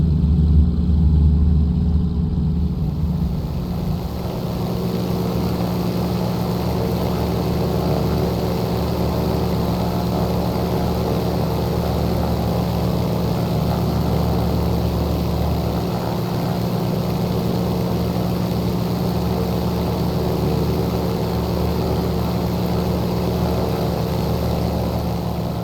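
A simulated P-40N Warhawk piston engine and propeller drone at a steady, loud, unbroken level throughout, with a constant deep hum and no voices.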